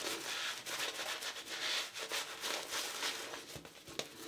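A shaving brush works lavender soap lather onto a face, making soft, close, rhythmic swishing and rubbing strokes at a low level with no talking.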